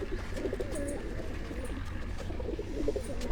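Breeder pigeons coo softly in repeated low, throaty burbles at a house loft, a few calls overlapping against a quiet steady background.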